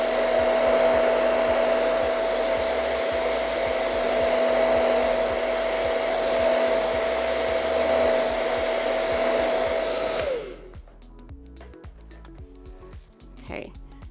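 A hair dryer on medium heat and airflow blows steadily and loudly over hair extension glue for about ten seconds, then cuts off abruptly, leaving faint handling sounds and quiet speech.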